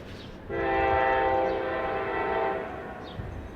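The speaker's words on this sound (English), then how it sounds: "The train is always there when I'm talking" A loud, sustained train horn blasts for about two seconds over the rumble of a passing train, then fades into lingering track noise.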